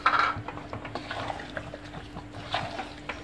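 Roasted spice powder of fennel, pepper, cumin, coriander, dried chili and curry leaves is stirred into chicken in a pan for Chettinad chicken masala, giving soft scraping and clinking spoon strokes, faint and close.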